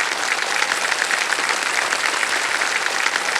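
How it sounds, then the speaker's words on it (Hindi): Loud, steady applause from a TV quiz show studio audience on Kaun Banega Crorepati, dense clapping sustained throughout without a pause. "तालियां बज जाए इनके लिए।"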